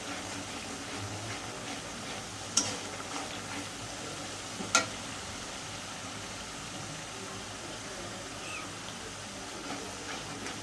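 Onions fry in a pan with cardamom and cinnamon already in the oil, a low, continuous sizzle heard alone with two sharp clinks of a utensil against the pan.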